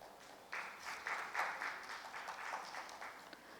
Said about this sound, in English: Please welcome him with a round of applause, everyone.